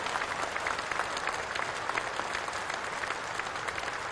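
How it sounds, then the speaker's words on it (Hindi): Sustained audience applause greeting a cooperative initiative at a national cooperative conference addressed by Amit Shah, a dense steady clatter of many hands throughout with no voices over it. "हम सब इसकी ताली बजाकर स्वागत करें और उनके प्रति धन्यवाद"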